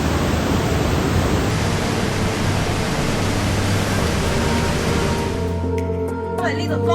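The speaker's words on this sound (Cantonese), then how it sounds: "中國最大的瀑布——貴州黃果樹大瀑布" Huangguoshu Waterfall in Guizhou, China's largest waterfall, pours with a loud, dense, unbroken roar that suddenly drops away near the end, giving way to quieter tonal sounds.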